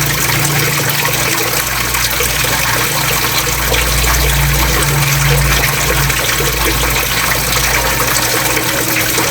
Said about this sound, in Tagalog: Tapos lalagyan ko ulit ng tubig.